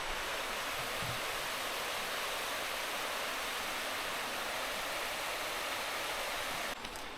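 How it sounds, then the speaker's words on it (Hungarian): Jungle waterfall in the Cameron Highlands, a steady broadband rush of falling water heard alone and moderately distant, unchanging throughout with no voices. "egy vízesés."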